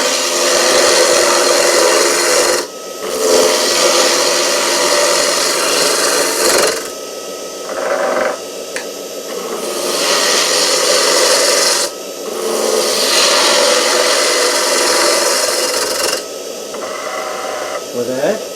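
A woodturning lathe tool cuts into spinning wood up close, a loud raspy scraping that comes in long strokes separated by short pauses, with the pitch of the cut shifting as the lathe speed rises.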